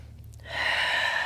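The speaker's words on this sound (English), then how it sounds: "Taking a deep breath in through the nose, out through the mouth" A single deep, airy breath, drawn in and released during a yoga flow, starts after a short quiet moment and holds steady and close, with no speech.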